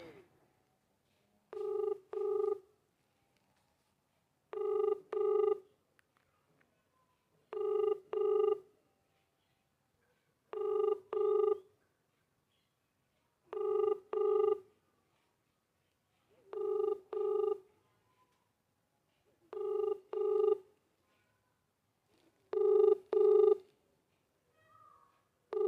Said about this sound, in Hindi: अनवर भाई ने फ़ोन नहीं उठाया,